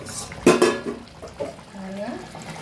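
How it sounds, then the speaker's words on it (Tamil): A plate used as a lid clatters off a pot of Tamil-style dry fish curry, a sharp metallic clink followed by lighter scraping and soft kitchen sounds. "மூடி எடுத்துட்டு பார்க்கலாம்"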